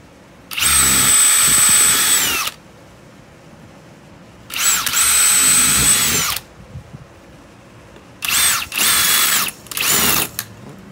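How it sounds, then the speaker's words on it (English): A power drill whirs in loud bursts: two long runs of about two seconds, then two shorter bursts, with quiet pauses between. "my husband is gonna drill the holes right now"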